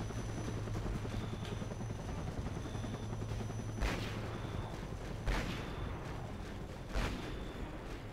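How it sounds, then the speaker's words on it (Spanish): Gunfire from an attack helicopter in the war game Conflict Desert Storm 2: a steady rotor drone runs throughout, punctuated by three or four loud, sharp bursts of shots at irregular intervals, with no voices. "Ahí tenemos a uno disparando desde el cielo."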